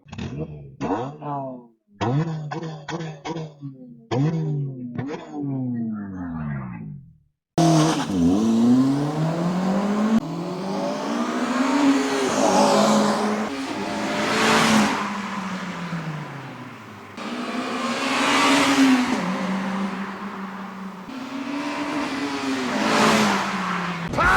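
A 2008 Honda Civic Type R FN2 revs hard on a busy street, its exhaust note climbing through several gears with loud, close engine roars and brief drops between shifts.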